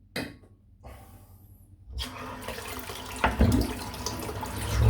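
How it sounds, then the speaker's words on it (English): A razor rinsed under a running tap, water gushing into a sink in a steady close stream, briefly interrupted near the start, then growing louder with splashes as the razor passes through the flow. "Just rinse off this razor."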